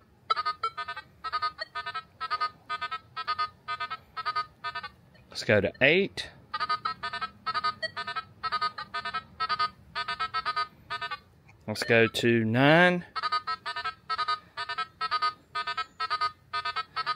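Nokta Triple Score metal detector giving its iron tone, a rapid train of electronic beeps repeating steadily for most of the span and growing louder, broken twice by short sweeping chirps, with someone talking briefly over it.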